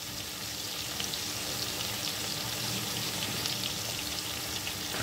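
Prawns frying in a pan give off a steady, close, bright sizzle and crackle that holds evenly for the whole stretch with no talking.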